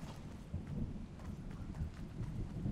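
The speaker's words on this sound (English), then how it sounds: "And the storm's coming too." Approaching storm thunder in the Fortnite video game, a low continuous rumble with rain-like hiss that swells and rolls steadily throughout, moderately loud and without talk.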